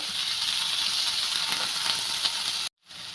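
Green chillies, garlic and ginger sauté in hot oil for a tomato chutney, giving a loud, steady sizzle that runs almost unbroken before a brief cutoff near the end.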